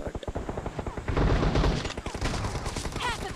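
Rapid sniper rifle gunfire from an M24 in the mobile battle-royale game PUBG Mobile, loud close shots mixed with surrounding game gunfire and explosions, dense and continuous throughout.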